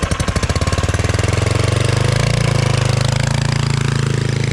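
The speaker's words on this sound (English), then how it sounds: "Runs really good with that stock style muffler." A motorcycle engine with a stock-style muffler runs loud and close, its throbbing exhaust pulses quickening early on and then settling into a steady, heavy drone.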